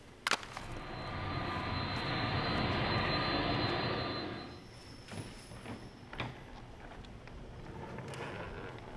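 Airplane flying past, a broad roar that builds, holds for a few seconds and fades away, followed by faint scattered knocks and rustles.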